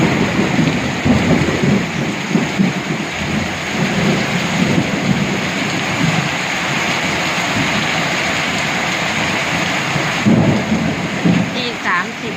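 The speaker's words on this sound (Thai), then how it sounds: "แรงมากฟ้าร้องฟ้าแลบ" Heavy rain pours steadily at night in Uttaradit, Thailand, a loud, dense, continuous wash with deep thunder rumbling through it and a few stronger peaks.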